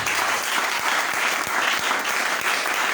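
A church congregation applauds and cheers loudly in praise, a thick continuous wash of clapping with no break across the whole stretch.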